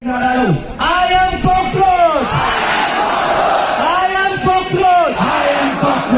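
Crowd at a protest in Pune chanting and shouting together, loud and close, with rising and falling group calls repeating in waves.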